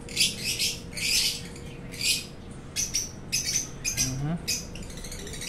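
A breeding pair of parrots, a blue pastel hen and a green pastel opaline cock, chirp and squawk in short bright bursts, fairly close, with a faint steady hum and scattered clatter in the background.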